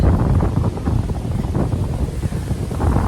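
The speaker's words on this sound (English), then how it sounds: "Whew, more wind." Strong gusty wind outdoors in the Midwest during tornado season, a loud continuous low roar buffeting the microphone without letup and with no talk.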